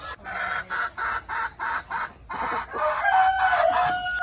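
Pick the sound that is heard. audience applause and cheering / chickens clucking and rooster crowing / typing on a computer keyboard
chickens clucking and rooster crowing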